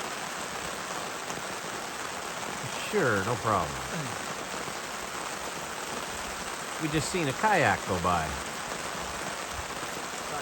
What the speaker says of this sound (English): after 14 hours of heavy rain, they said 50 to 100 milliliters, I believe it